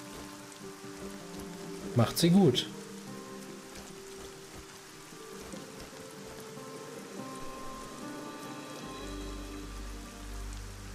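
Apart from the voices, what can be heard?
rain in video game Arcania: A Gothic Tale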